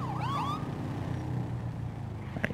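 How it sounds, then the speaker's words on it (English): A police siren from a GTA police-mod patrol car wails in rising and falling sweeps for about half a second, then gives way to steady engine rumble and road noise with a brief click near the end. "I just try to scare some people by throwing on my siren every once in a while."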